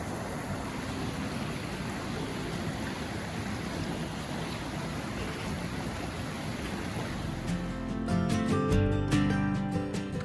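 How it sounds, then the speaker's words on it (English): Wading across a river on the West Coast Trail, with steady rushing, splashing water throughout and louder, closer splashes near the end as legs push through the current. "So we just waded across the river right over here."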